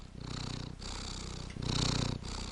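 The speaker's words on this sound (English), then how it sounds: "Do you hear that small kitty next to you?" A small cat purrs close by in a steady rhythmic cycle, each rumbling breath in and out clearly separated by brief pauses, soft and intimate with no talking.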